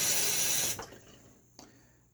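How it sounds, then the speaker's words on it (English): Water runs steadily from a tap into a shaving soap bowl for a moment, then cuts off, leaving a quiet room with one small splash or clink shortly after. "let's put just a little bit more water in there."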